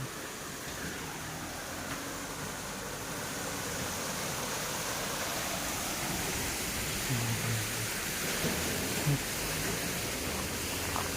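A stream flows in a soft, continuous rush, a steady broadband wash that stays faint and even throughout, in a coffee plantation village in Chikmagalur.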